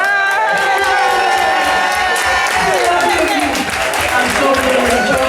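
Loud, steady crowd applause and cheering with whoops for a cake maker at a Liberian Independence Day celebration in Zurich, continuous clapping throughout with voices mixed in.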